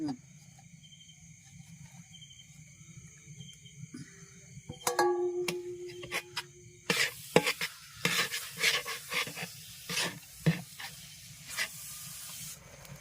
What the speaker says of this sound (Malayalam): നേരെ ഈ ശർക്കര പാനിയിലേക്ക് തേങ്ങ അങ്ങ് ചേർത്ത് കൊടുക്കണം അല്ലേ?